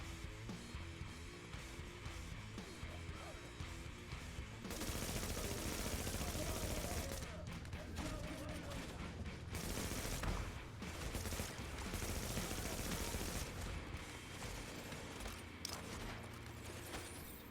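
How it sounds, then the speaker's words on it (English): Sustained gunfire in The Division, loud and dense, with rapid shots packed together like automatic fire and a dense mix of game sound underneath, pausing briefly before resuming. "someone's shooting me from behind"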